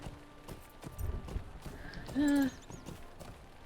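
A horse's hooves clip-clop steadily in the online game Lord of the Rings Online (LOTRO), with a short loud whinny midway, while someone talks briefly over the sounds.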